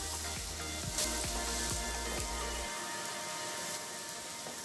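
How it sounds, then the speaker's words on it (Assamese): Chopped tomatoes sizzle and fry in a hot pan, a steady crackling hiss with the scrape and tap of a spoon stirring every half second or so, which stops partway through while the frying continues. "ভালদৰে লৰাই বিলাহীখিনি অলপ গলি যোৱালৈকে ভাজি ল'ম।"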